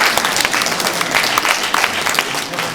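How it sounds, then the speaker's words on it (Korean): Applause from a crowd of delegates at a Korean association orientation, a steady wash of clapping held for about three seconds at moderate loudness, with faint voices mixed in. "박수 한번 주십시오."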